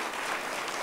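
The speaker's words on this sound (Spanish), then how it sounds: "Fuerte aplauso también para Fernando García y José Luis Teixé." A dense wash of audience applause for musicians at a stage event, brief and steady with no clear individual claps.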